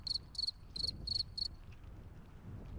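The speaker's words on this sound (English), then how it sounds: "Oh, he hit you with the crickets, Kiz." Rhythmic cricket chirping used as a sound effect after a joke falls flat, five quick bursts close together and then a quiet room with no talk.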